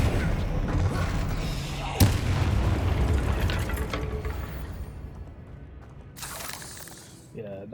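In the video game Hogwarts Legacy, the Bombarda spell goes off as a loud, dense blast with a sharp crack near two seconds. Rumbling combat noise follows and fades, then brief bright bursts near the end.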